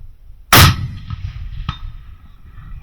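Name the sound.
rifle shot hitting steel target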